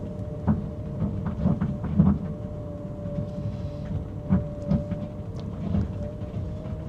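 An Audi R8 V10's power steering groans while turning on lock, a low rumbling moan that swells in a few irregular bumps and grinds over a steady engine hum, fairly quiet and close.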